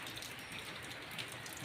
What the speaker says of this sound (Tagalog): Ulan dahil may bagyo.